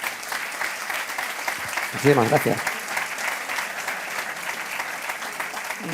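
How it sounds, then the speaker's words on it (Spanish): Moderate applause from an audience at a talk on inheritances and donations, a steady wash of clapping with someone briefly speaking over it partway through. "un fuerte aplauso"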